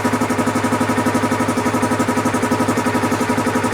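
A fuel-injected vehicle that has sat unused for a couple of years runs at a loud, steady idle close by, its even pulsing rhythm holding without change.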